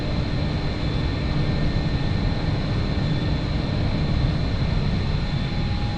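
Jet engine of an aircraft in the DCS flight simulator climbing after takeoff, a steady loud broadband roar with a faint high whine, continuous with no change throughout.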